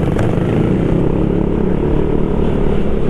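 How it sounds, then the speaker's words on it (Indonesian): Many motorcycles crowd a busy Indonesian road during Ramadan, their engines merging into a loud, continuous close-up drone with no gaps. "banyak motor-motor tuh."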